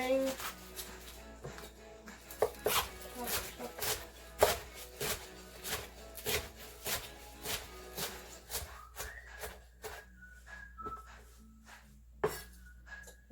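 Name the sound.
knife chopping kale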